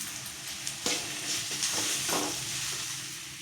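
Banana stem stir-fry with green chilli and a little chilli powder being sautéed in a pan, a steady close sizzle broken by several scraping stirs of a spatula, with no talking.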